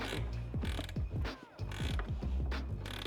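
A ratchet wrench tightens a nut on a Toyota 4Runner mount with rapid repeated clicking strokes. A short pause breaks the clicking midway, and it is close and fairly loud.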